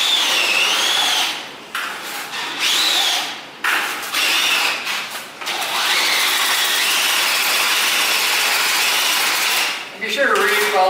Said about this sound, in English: Use an appropriate mixer, not a fucking drill like I'm doing it